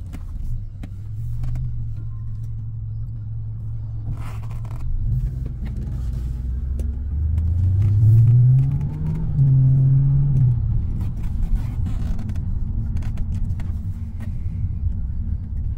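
2004 Pontiac GTO with a 5.7 liter LS1 V8 and custom-grind cam accelerating, a deep rumbling engine that swells and climbs in pitch midway before easing back to a steady drone.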